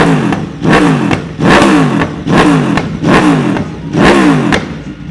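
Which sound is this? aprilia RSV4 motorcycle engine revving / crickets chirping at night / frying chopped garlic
aprilia RSV4 motorcycle engine revving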